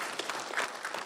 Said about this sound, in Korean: 교육감님께 뜨거운 박수 부탁드리겠습니다